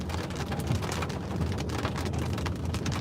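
Heavy rain pounds steadily on a vehicle during a tornado storm chase near Clear Lake, South Dakota, a dense continuous hiss and patter that stays loud throughout with no break.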